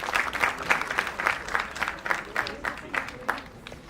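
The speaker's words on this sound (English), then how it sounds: "Please give a big round of applause for this beautiful moment." An audience at an international pharmaceutical research conference claps in a brisk, fairly even patter of applause, moderately loud and sustained for several seconds.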